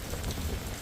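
Heavy rain pours down steadily during a winter thunderstorm in Blackpool, a dense, even hiss of drops drumming on surfaces close by, with no voices.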